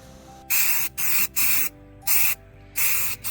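Stain-blocking primer sprays from a can onto a vintage end table in five short hissing bursts, close and loud, separated by brief pauses.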